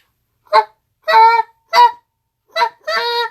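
Goose call blown as a short, soft moan followed by a longer drawn-out moan, with a second matching pair after a pause: five clear honking notes, loud and close, with no talk.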